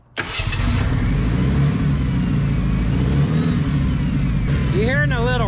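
A 1988 Ford Thunderbird Turbo Coupe that sat abandoned for twenty years idles after starting, a steady low rumble running continuously and close by, with a person talking over it.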